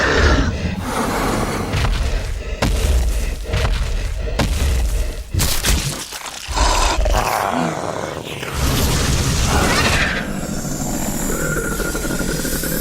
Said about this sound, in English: 675 awesome and terrifying sound effects